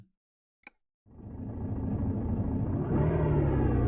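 A classic car engine in Euro Truck Simulator 2 starts up and revs into a loud, steady low rumble that builds and holds, after a single brief click.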